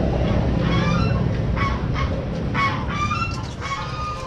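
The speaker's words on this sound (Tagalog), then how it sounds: "Ito yung gansa sa kabila." Geese honk repeatedly over a busy farmyard din of other fowl, with short overlapping calls coming in clusters at moderate distance and no talk.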